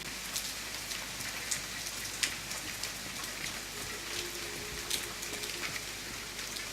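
Steady rain hisses without a break in The Forest video game, with scattered drop ticks and no voices.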